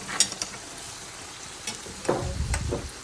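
Frozen nali saag (jute leaf greens) with raw garlic and spices being stirred in a pot, giving a few soft scraping and clinking strokes over a faint simmer, close up and fairly quiet.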